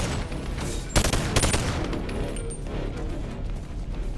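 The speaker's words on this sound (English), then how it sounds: "Now I had to run past a whole bunch of people with guns. I was pretty low on health, so I decided to hide behind this poster, but somehow I got shot through it" Enemy guns fire in BONELAB: a couple of sharp, loud shots punch through a steady wash of rattling gunfire and game noise, close and dense, with no talk.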